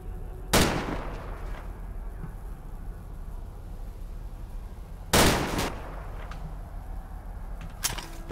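Automatic rifle in the shooter game STALKER: Call of Pripyat, fired in three short, loud bursts spaced several seconds apart against a quiet background.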